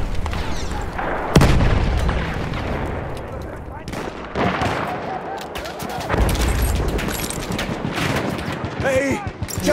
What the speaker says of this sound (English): lancio una bomba a mano!